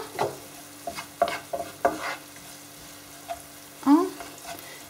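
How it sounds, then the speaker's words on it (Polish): Onion and garlic fry in a pot for a spicy pepper soup while a spoon stirs them, giving a faint sizzle broken by several scraping knocks and a louder scrape near the end, with no talking. "Cebulkę mam ładnie zeszkloną, a zatem wrzucam czosnek. Wszystko przemieszam."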